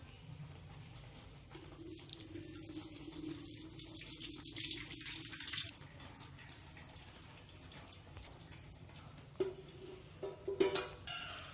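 Curdled milk for homemade paneer strained through a cotton cloth: a soft, steady trickle and splash of liquid, fairly quiet, ending in a few louder drips and splashes with light clinks of a vessel.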